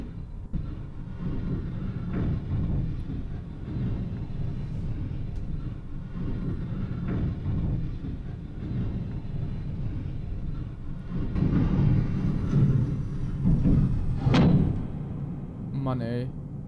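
A train runs in the video game Metro 2033 as a continuous low rumble and clatter with periodic clunks, growing louder toward the end with a rising mechanical whine, while someone talks over it at times.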